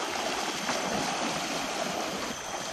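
River in Bali running full after a storm, a steady broadband rush of flowing water filling the whole stretch evenly, with no voices heard.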